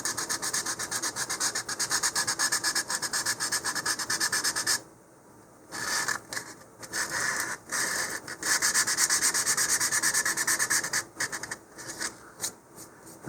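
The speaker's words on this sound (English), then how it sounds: "it doesn't take a whole lot of sanding for that" Sandpaper rubs back and forth over small model rocket parts, brisk rhythmic scratching strokes close up, pausing briefly before resuming in short bursts.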